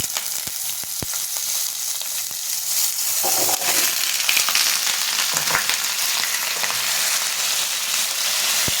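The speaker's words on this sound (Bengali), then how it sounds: "আলুটা একটু লাল লাল হয়ে ভাজা হবে" Washed potatoes frying in oil after a dried red chilli tempering give a continuous close sizzle that swells after a few seconds, with scattered clicks and scrapes of stirring.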